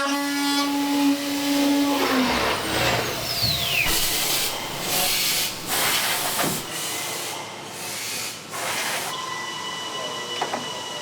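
Automatic machine cutting out an aluminium door in a window workshop: a sustained whine from the cutter winds down, followed by bursts of grinding, hissing and clunks.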